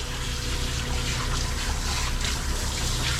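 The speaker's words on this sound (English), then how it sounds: "Get all that conditioner rinsed out." Running water rinses conditioner out of a poodle's coat in a tub, a steady, close, continuous rush and splash with no talk over it.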